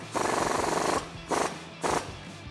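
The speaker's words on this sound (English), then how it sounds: "Now we can tighten down our bottom bolt with that 18mm wrench and socket that we used before to take it out." An 18mm wrench and socket tighten the bottom bolt of a Jeep Wrangler JL shock during a spacer lift install, heard as three close, loud bursts of rapid rattling ratcheting, one long and two short, with no talking.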